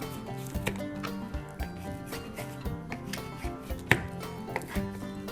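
A knife working through a deer hindquarter along the seam, giving irregular soft scraping and tapping strokes close up, with one sharper knock partway through.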